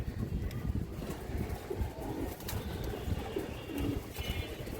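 Old-breed pigeons at a pigeon sale, faint low cooing with a few chirps over a rumbling, busy background.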